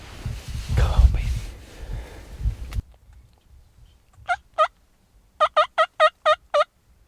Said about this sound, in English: Oh, it's one big Tom with them all.